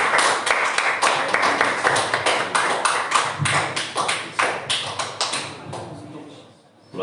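Hands clap together in a quick, steady rhythm during a Sunday church service, many claps in time, loud and close, then trailing off toward the end.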